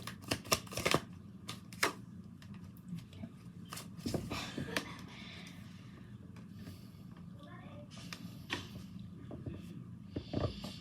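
Tarot cards being shuffled by hand at close range, a run of crisp riffling clicks and taps with softer rustling between, with no talking.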